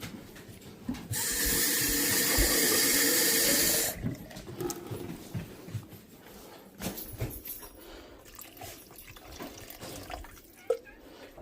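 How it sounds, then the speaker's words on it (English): A kitchen tap runs at full flow for about three seconds, a loud steady hiss of water into a pot, then shuts off, leaving scattered clinks, drips and handling noises. "Go ahead and add a little bit more water."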